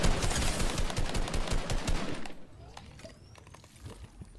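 Assault rifle gunfire in a Fortnite duel: rapid, close bursts of shots for about two seconds, then fainter scattered shots and clinks as the firing tapers off.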